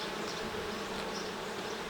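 Honeybees hum around an alpine beehive, a dense, continuous buzzing swarm close by with no voices.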